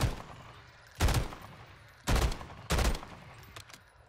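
Three loud, booming shotgun blasts from Call of Duty MW3 Warzone, spaced about a second apart, each with a short decay, and a fainter clatter near the end.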